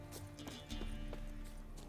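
Horse hooves clip-clop in The Witcher 3: Wild Hunt, a few soft, uneven steps from race horses standing idle nearby, set over a steady hum of game ambience with no talking.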